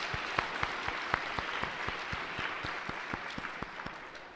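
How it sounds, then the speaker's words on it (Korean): A church congregation applauds together, a dense, steady clatter of many hands, with a few sharp claps standing out nearby above the crowd and the sound easing slightly toward the end, with no talk. "한번 크게 박수를 주시죠"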